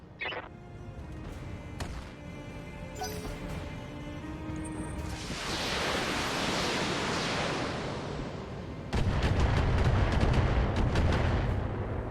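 Weapons fire from a BattleTech mech battle, a roaring blast swelling and fading over several seconds, then a second heavy rumbling volley, loud and close with no talk.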